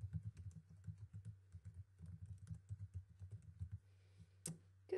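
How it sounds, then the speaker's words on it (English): Brisk, quiet typing on a computer keyboard, rapid clustered keystrokes in bursts with short pauses, close and alone. "Type what you want in it."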